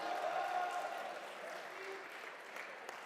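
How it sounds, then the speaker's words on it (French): Quiet, fairly distant applause from a crowd at a video game tournament final, clapping for a team's support crew. Steady, soft clapping runs under faint voices and background hall noise, easing off slightly over the short stretch. "On peut aussi applaudir son équipe qui a fait un énorme travail d'ambiance"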